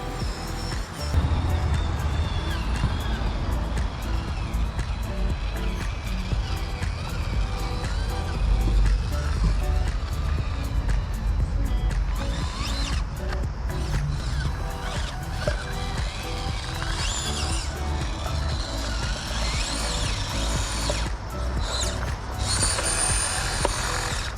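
An FMS FCX18 Toyota LC80 RC crawler with portal axles crawls in low gear, its small motor and geartrain whirring and ratcheting steadily throughout, close and continuous.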